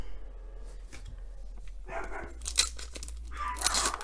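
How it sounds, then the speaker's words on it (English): Several pet dogs at a house bark excitedly in a couple of bursts, distant and faint, alongside crinkling and tearing sounds close by. "Guess somebody's at my house because my dogs are going nuts."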